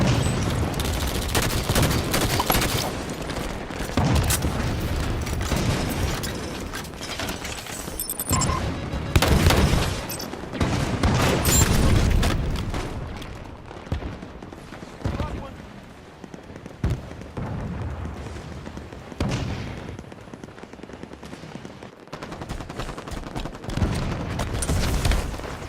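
Grenade blasts and rapid gunfire in a video game battle, loud dense bursts of shots and booming explosions crowding together, thinning briefly and then surging again.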